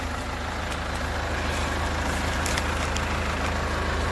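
A Kubota L4701 tractor fitted with an LA765 loader idles steadily, its engine making a continuous low rumble that stays even and close throughout with no talk over it.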